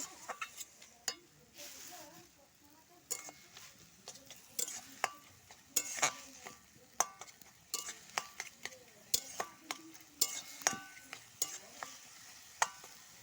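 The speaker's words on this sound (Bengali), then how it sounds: "একটু জল দিয়ে ভালো করে নেড়ে নিব" Red amaranth greens with a little water are stirred in a pan, giving repeated scraping clinks of a spoon against metal, close and irregular, over a soft sizzle.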